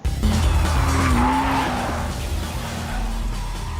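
A car drifting in a street-racing film scene set in Tokyo, its tires squealing loudly over a straining, revving engine for a few continuous seconds.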